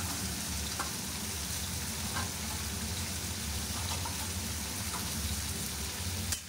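Soybeans, potatoes and paneer fry in a pan, a steady broadband sizzle with faint occasional ticks and pops, continuous and fairly quiet, no talking.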